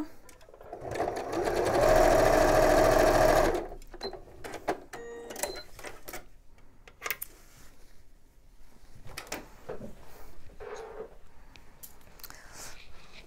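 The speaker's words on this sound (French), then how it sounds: "il ne faut pas oublier de coudre le dernier carré bicolore avec son petit rectangle" Domestic sewing machine stitching two-tone patchwork squares to a small rectangle, one loud steady whirring run of about two seconds, then quiet fabric handling and small clicks.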